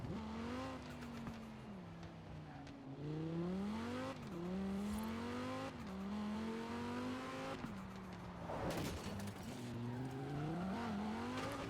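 A car is driven in the video game Forza Horizon 4, its engine revving up and down through repeated gear shifts, rising whines broken by brief drops, with a burst of tire or skid noise partway through.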